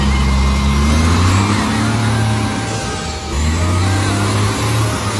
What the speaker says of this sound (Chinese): 这次车主也是直接把油门给踩到了油箱里面，现在卡车也是终于开出了隔离带